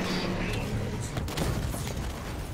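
Weapon fire during combat in the Halo 5: Guardians video game, a dense, continuous rumble of shots and booms held at a steady loud level throughout.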